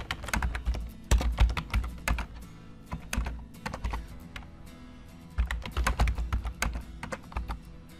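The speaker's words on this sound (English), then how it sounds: "I'm just going to type a few commands at the Qubit command prompt." Rapid bursts of computer keyboard typing at a command prompt, clicking keys coming in uneven clusters with short pauses between, close and clear with no talking.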